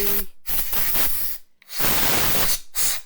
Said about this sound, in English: I always spray the machine with canned air.